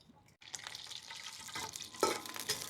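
Whole spices and cumin sizzling in hot ghee, a steady close frying crackle with stirring scrapes that grows louder as more go into the pan.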